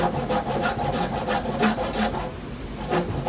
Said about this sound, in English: I'd cut my two lines in, and then I'd cut some more feathering joints in